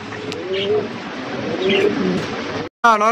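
Mosaldom pigeons at a market sale coo in soft, low calls over a busy background murmur, ending with a brief cut and a sharp burst of noise.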